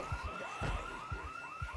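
Car alarm blaring in Project Zomboid, a looping electronic siren sweeping up and down in rapid repeated cycles with pulsing low thumps beneath, steady and loud throughout.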